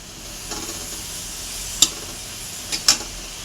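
Fish fried with dried chilli and salt sizzles softly in a pan, a close steady hiss broken by a few sharp scraping clacks as it is stirred, with no voices.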